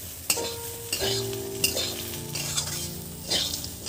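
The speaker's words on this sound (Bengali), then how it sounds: "আমরা এবার এটাকে হালকা হাতে বেশ কিছুক্ষণ একটু নেড়ে চেড়ে নেবো।" Semolina upma with dal being stirred in a frying pan, a spoon scraping and clinking against the metal in irregular strokes over a soft sizzle, close and fairly loud with no talk.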